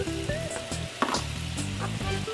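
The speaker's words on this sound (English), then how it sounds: "When the fat starts to render like this, then I add my onions" Onions sizzle in rendered bacon fat in a saucepan, a steady crackling fry with repeated soft stirring knocks and scrapes, close and fairly quiet with no talking.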